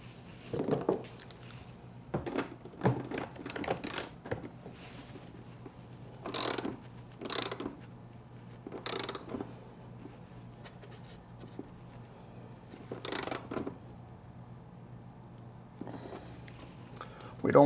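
Fasteners on a kayak battery box are tightened down by hand, with short bursts of ratcheting clicks scattered between quiet pauses, close and fairly faint, and soft murmured speech in places.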